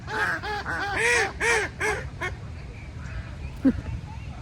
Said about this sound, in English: I love these ducks.